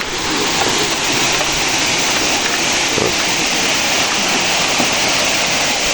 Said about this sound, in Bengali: এই সাইড দিয়ে হচ্ছে সেই পালং খিয়াং ঝর্ণাটা